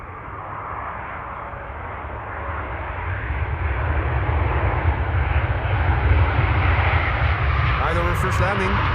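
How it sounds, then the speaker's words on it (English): A five-year-old Delta Air Lines jet on arrival from Seattle at Amsterdam Schiphol roars in, its broad engine rumble swelling steadily louder under a voice commentating. "So, Delta Airlines Flight 142 arriving from Bill J's hometown of Seattle, Washington."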